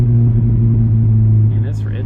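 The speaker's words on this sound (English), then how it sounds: "So this is a really bumpy road in my mom's neighborhood." A Toyota 86 rolls over a bumpy neighborhood road, its steady low engine and tire rumble filling the cabin, with a voice talking faintly near the end.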